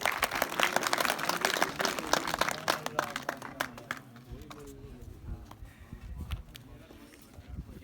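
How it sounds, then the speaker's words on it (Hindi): Applause for a student at a prize ceremony at a government middle school, a burst of clapping from a crowd that fades out partway through, with speech and stage noise underneath. "इस बच्चे के लिए तालियां बजाएं जी।"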